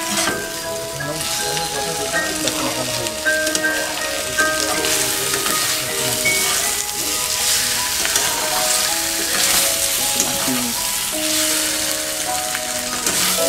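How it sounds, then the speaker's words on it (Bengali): Fried eggplant being slowly tossed with spices in a pan, a dense continuous sizzle with soft scraping and clinking of the spatula throughout, and no talking. "এবারে আস্তে আস্তে করে বেগুনগুলোকে মাখিয়ে নিচ্ছি"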